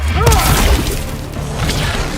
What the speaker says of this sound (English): The attacker jabs the victim with 3 strikes, then knocks them away with an elbow to the head.